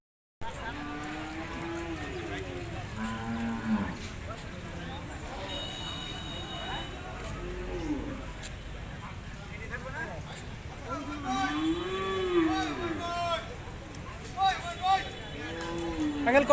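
Cattle, including a red bull, lowing at a busy livestock market, several drawn-out moos scattered over crowd chatter and people talking nearby.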